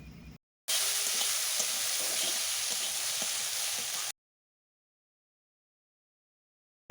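Chingri aloo posto, a mix of prawns, potatoes and poppy seed, is stirred in a frying pan with a continuous sizzle. Soft scraping sounds run under it before the sound cuts off abruptly.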